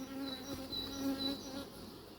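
Honeybees buzz around an open hive while frames are handled. Their dense, continuous drone has individual bees whining close by, and there is no talk.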